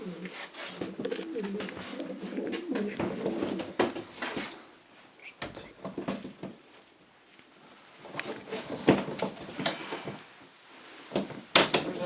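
Janssen racing pigeons coo in bursts near the listener, with knocks and handling noises between calls and some talking alongside.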